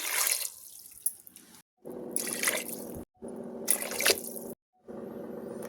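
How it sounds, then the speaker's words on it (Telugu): Water is poured in several separate bursts into a pressure cooker holding cut potato, carrot, beans and tomato, each splashing pour broken by short silences. "ఈ కప్పుతో మూడు కప్పులు వాటర్"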